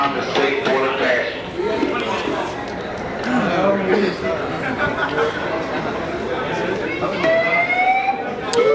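A building fire alarm buzzes and sounds on and off while a recorded evacuation announcement plays, with a crowd of people chattering and talking loudly over it throughout.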